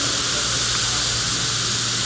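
A loud, steady hiss of a Titomic metal powder 3D printer spraying at subsonic speed runs without a break from start to finish, harsh and constant, with no voices.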